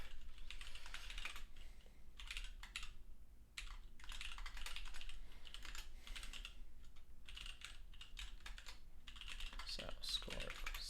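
Someone codes on a computer keyboard, producing a close, steady patter of key taps in irregular bursts with short pauses, and a voice speaks briefly near the end.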